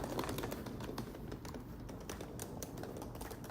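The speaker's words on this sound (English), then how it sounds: "like a normal suitcase rolling sound." Hard suitcase wheels roll steadily over an outdoor surface, a continuous gritty rumble with small irregular clicks and rattles, close and moderately quiet, with no voices.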